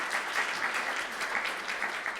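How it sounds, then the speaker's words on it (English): A church congregation claps steadily, a dense even patter of many hands close by, sustained for a couple of seconds with no voices over it. "I think we owe them a wonderful round of applause for showing up here."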